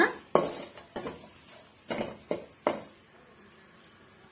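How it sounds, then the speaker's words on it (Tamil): Garlic is stirred in a pan over a medium flame, with a spoon scraping and clinking against the metal in several sharp separate knocks that fade into a quiet sizzle. The sounds are close and there is no talk. "இதை வந்து நம்ம கிளறி விட்டு கிளறி விட்டு நம்ம வதக்கி எடுத்துக்கலாம்"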